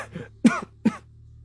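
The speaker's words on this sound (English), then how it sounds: "I am still coughing." A person coughs a few times in short, close, harsh bursts that are spaced apart, with near silence between them.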